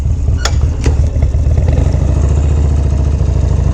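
A hot rod Harley with an S&S engine rides through New York City streets, its loud, close, deep engine rumbling steadily throughout, with a couple of sharp clatters near the start.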